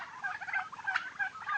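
Turkeys on a turkey farm in Sirajganj give a short burst of rapid, warbling gobbles, several birds overlapping, close and fairly loud.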